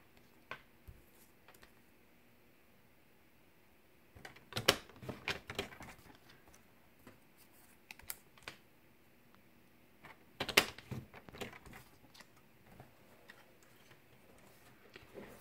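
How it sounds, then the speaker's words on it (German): Cardstock strawberry shapes are laid in a paper trimmer and scored, giving quiet clusters of close clicks, taps and scraping strokes separated by near-silent pauses. "die legst du in den Papierschneider ein, etwa mittig, und falzt einmal jede durch"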